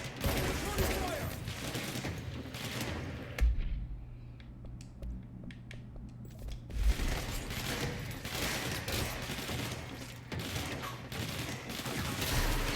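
Dense gunfire in the video game Control rattles in sustained bursts with a few heavier booms, easing off briefly midway before the barrage resumes, with faint voices in the mix.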